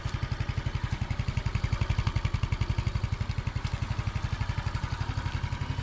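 Cheap motorbike idling just after an electric start, with a quiet, even, rapid putter from the small engine, steady and close with no speech.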